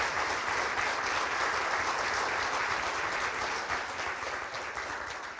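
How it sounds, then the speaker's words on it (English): An audience applauds at a town board meeting, a steady, dense clapping from many hands that fills the room for several seconds and tapers slightly at the end, with no talk over it. "I think that deserves a round of applause."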